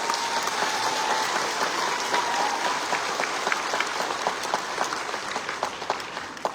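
A crowd applauds at a political gathering in Northeast India, dense steady clapping continuing throughout, fairly loud and sustained, with a few sharper individual claps standing out toward the end.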